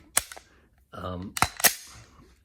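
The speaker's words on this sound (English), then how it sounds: "do the dry fire trigger pull" A Glock dry-fired with snap caps gives a few crisp, sharp clicks of the trigger and striker close up, separated by a brief rattle of handling.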